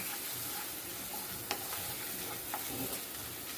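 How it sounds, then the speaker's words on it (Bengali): A paste of cashew, melon seeds, yogurt and almonds sautés in a pan for navratna paneer, a soft, steady sizzle with occasional light spatula scrapes and taps, fairly quiet and close. "আমি কাজু চারমগজ দই আমন্ডের পেস্টটা দিয়ে কষে দেব"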